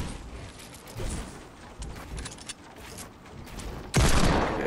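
A new shotgun firing in Fortnite amid scattered game gunfire and clatter, with one loud, close blast near the end standing out above the busier background.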